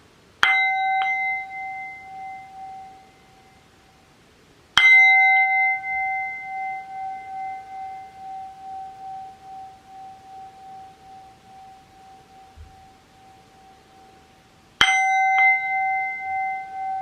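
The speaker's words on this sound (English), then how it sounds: "singing bowl. So I'm just going to tap this 3 times and try my best to make it sing." Three taps on a singing bowl ring out, each a sharp metallic strike followed by a long, pure, slowly fading tone, the second ringing longest before the third strike near the end.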